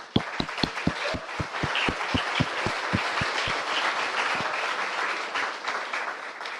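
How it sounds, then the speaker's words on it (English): An audience at a cannabis industry event applauds for a team, opening with a dozen loud, evenly spaced claps near the front before the sound spreads into a sustained crowd applause that slowly fades. "Just a quick round of applause for everyone on the team."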